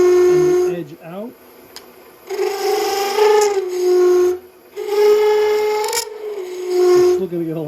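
A wood lathe turning a long-stemmed goblet as a spindle gouge hollows the cup, giving loud, tonal cutting and moaning whines in repeated passes with short pauses between them.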